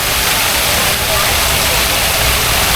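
Water splashes and rushes steadily from a fountain at Wonderland Amusement Park, a loud continuous spray with voices mixed faintly into the noise.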